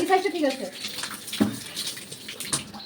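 Water from a pond pump runs in a continuous splashing rush, with voices talking over it near the start.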